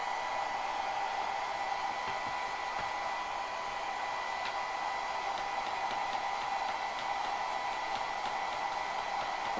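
A hair dryer runs continuously at a steady, loud whir with an even airy hiss and a constant pitched hum, unchanging throughout and without any talk.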